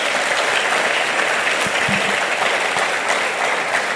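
Applause from a church congregation during a Portuguese sermon, thick continuous clapping with a few scattered low thumps partway through, steady and fairly close throughout.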